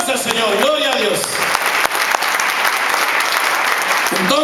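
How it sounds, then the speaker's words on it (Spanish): A church congregation applauding, sustained loud, dense clapping from a crowd that fills the room, with a voice speaking over it at the start and again at the end. "Denle el aplauso al Señor."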